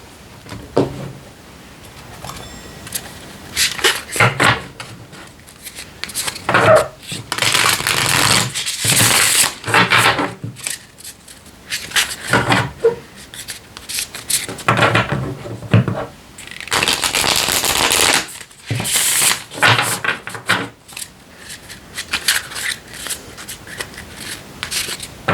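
Tarot cards shuffled by hand for a reading, a close, busy riffling and rustling that runs in bursts with short pauses throughout.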